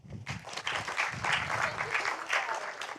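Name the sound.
audience applauding the panelists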